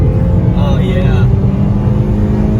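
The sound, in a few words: loud car engine revving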